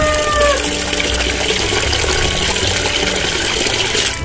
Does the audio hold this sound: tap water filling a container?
yes